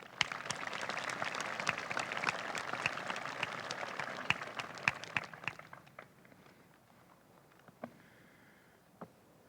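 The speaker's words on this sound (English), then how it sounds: "Please give them a round of applause." Applause from a crowd at a school commencement ceremony, dense clapping that thins out into a few scattered claps before fading.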